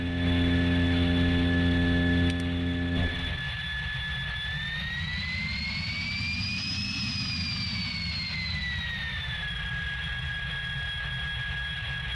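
Jet fighter engine whine in Strike Fighters 2, coming in to land on another airfield into the wind, a loud steady roar with a rising then falling pitch, low rumble at the start giving way to sustained turbine hiss.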